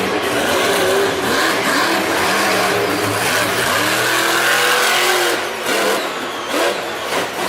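The Zombie fire truck monster truck at Monster Jam in Nashville revs its engine hard and continuously at an arena event, a loud, roaring engine note that rises and falls as it runs up for a jump.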